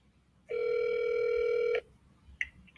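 An answering machine voicemail beep sounds alone as a single steady electronic tone lasting just over a second. After it there is quiet line hiss and a faint click.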